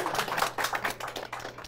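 Rapid, dense keyboard typing by a stenographer live-captioning a talk clatters continuously at close range, with a low steady hum underneath.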